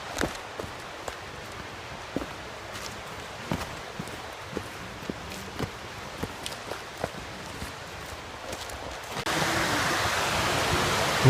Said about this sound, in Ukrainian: і горна річка.